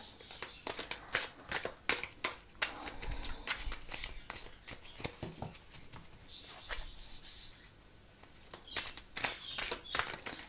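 Tarot cards shuffled and drawn from the deck, making a steady run of crisp papery flicks and slaps up close, with someone talking over them.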